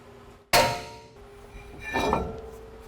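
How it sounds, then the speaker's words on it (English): A hammer strikes a brake rotor on a 2011 2WD Dodge Ram to break it loose: one sharp, loud metallic blow with a ringing decay, then a second, softer knock about a second and a half later. "you may need to use a little bit of a hammer to break it loose to get it off"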